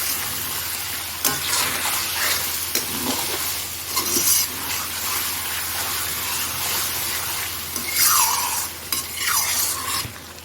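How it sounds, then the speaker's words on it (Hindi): Chicken sizzling and being stirred with ginger and garlic in a karahi at a Pakistani street food stall, a continuous crackling fry with recurring scraping stirs and a couple of louder hissing surges. "अब हम डालेंगे अदरक लहसुन, और इसके साथ इसको 2-3 मिनट भूनेंगे।"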